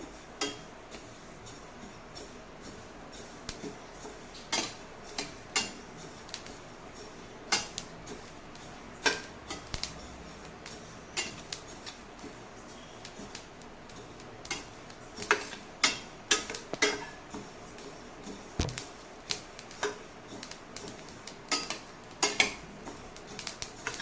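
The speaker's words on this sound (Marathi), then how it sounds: "खुरासणी आपली हळूहळू तडतडायला लागलेली आहे। आवाज येत आहे तिचा तडतडण्याचा।" Khurasani (niger) seeds roasting in a pan give off faint, sparse crackles and tiny pops at irregular intervals, quiet and close, growing slightly busier toward the end.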